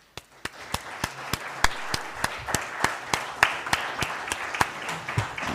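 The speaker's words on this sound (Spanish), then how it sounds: "Quiero un aplauso para ellos." Applause after a panel of six speakers at a conference session, heard as sparse, evenly spaced individual claps, fairly close and crisp, like only a few people clapping slowly.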